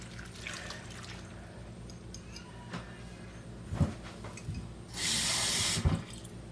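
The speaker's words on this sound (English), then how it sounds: "I've got this lemon juice I'm going to add in there." About a cup of lemon juice pours into a pot of salsa in a short splashing rush lasting about a second, preceded by a few soft clinks and knocks.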